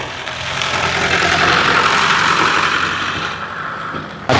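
A car engine runs at a used car dealership, a steady close mechanical hum that swells slightly and then eases off, heard alone without talk.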